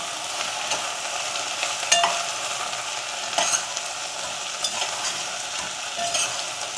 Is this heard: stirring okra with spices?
yes